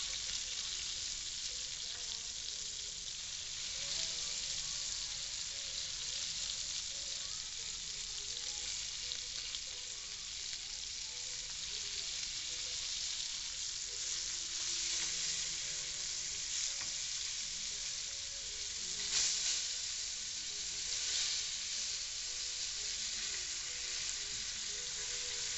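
Liver and onions sizzle steadily in a frying pan, a dense continuous crackle with occasional louder pops, close and alone with no talking.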